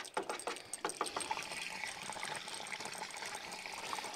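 Cider running from a siphon hose into a carboy outdoors at a woodyard, a faint continuous gurgling flow with a few small splashes at the start, then a steady liquid rush.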